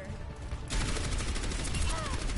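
Sustained gunfire in a video game bursts in abruptly after a quieter moment and keeps up as a loud, dense volley, with voices faintly mixed beneath.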